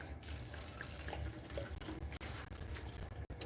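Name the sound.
pouring water into a DIY watering bottle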